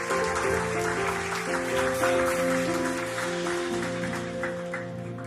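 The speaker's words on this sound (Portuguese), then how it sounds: "Aplauda o Senhor com alegria" During a Sunday church service in Lisbon, the congregation claps steadily in a dense, continuous crackle of many hands, layered over sustained instrumental music tones that run beneath it and ease slightly toward the end.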